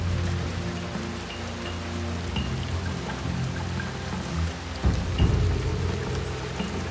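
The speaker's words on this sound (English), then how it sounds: "Rain will not stop us." Steady rain patters on surfaces with scattered drops in the video game Shadow Tactics: Blades of the Shogun, and a low rumbling swell rises near the end; no one speaks.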